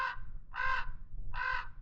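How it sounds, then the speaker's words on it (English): Crows caw in Cathedral Canyon, Nevada, giving three harsh, evenly spaced calls that ring out clearly at moderate distance over a faint outdoor background. "I have no idea what's up with the crows."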